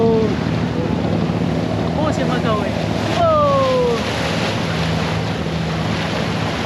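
An abra boat's engine drones steadily on the water near the old souk amid wind noise, with a person speaking briefly over it.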